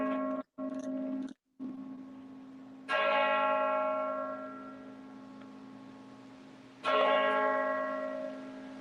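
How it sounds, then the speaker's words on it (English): Church bells in the UK toll, a deep resonant strike that hangs and slowly fades before two further strikes ring out at wide intervals, each leaving a long humming decay, no voices. "I was just waiting there for the bells to go."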